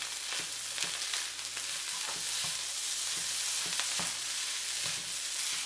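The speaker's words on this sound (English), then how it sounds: "we're going to add the 1/4 cup of chopped up green onions" Beef fried rice with chopped green onions frying in a pan, a continuous dense sizzle broken by regular soft scrapes of a spatula, close and steady.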